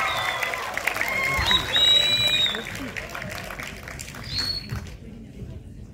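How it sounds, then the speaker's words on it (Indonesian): Audience applause at a film gala premiere, a moderate crowd clapping and cheering in a large room, mixed with voices and fading out near the end. "Beri tepuk tangan."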